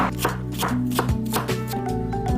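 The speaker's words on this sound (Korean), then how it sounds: "양파 4분의 1개는 작게 썰어주시고요." A knife chops a quarter of an onion into small pieces on a cutting board, with quick, even, repeated knocks in a steady rhythm, close and clear over soft background music.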